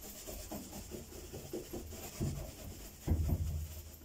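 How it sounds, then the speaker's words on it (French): Repeated rubbing strokes, a soft rhythmic scratchy friction close by, growing harder and louder near the end. "Donc je le frotte. Oui, bien fort."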